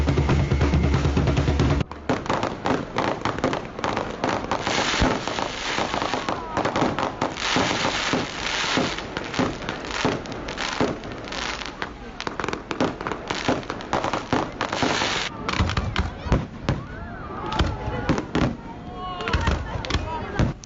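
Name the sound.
fireworks ending the sardine burial celebration on the beach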